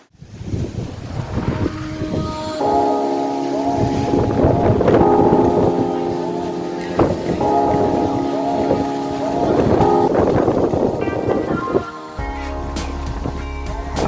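Hurricane-force wind after a heavy downpour, loud gusting roar buffeting the microphone, with tonal whistling and rattling through much of it.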